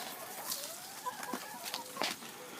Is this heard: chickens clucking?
yes